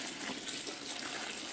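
Hot water pouring into a basin for a foot soak, a continuous splashing gush with a hissy, bright character, steady and fairly faint, with no speech.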